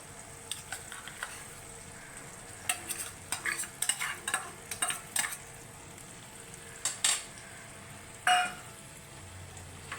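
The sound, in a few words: mixing boiled potatoes into potol dolma filling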